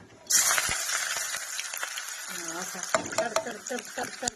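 Onion drops into hot oil in a pan for chana masala, starting a sudden crackling sizzle with scraping stirs and clinks while someone talks over it.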